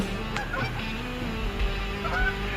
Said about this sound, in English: let's check out these geese